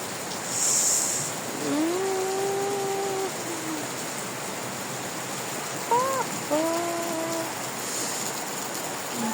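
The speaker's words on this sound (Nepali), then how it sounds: "त बर्खा लाग्यो साथीहरू। खोला ठुलै आउँछ, भल पानी परिरहन्छ।" Monsoon rain pours with a flooded stream rushing nearby, forming a steady broadband wash throughout, with a few faint tonal calls rising briefly above it.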